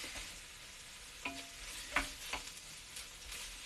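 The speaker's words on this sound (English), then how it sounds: "You want the chicken to cook in the oil, or the little oil that you use." Chicken frying in a little oil in a pan, a soft steady sizzle with a few brief crackles and stirring scrapes, heard close but quiet and without talk.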